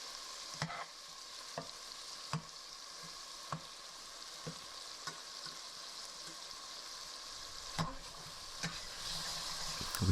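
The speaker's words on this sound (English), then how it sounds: "we'll go ahead and give them a helping hand and smash them up with a spatula" Tomatoes being smashed and stirred with a spatula in a hot pan, a steady quiet sizzle of frying under repeated soft scraping and tapping strokes, with no talking.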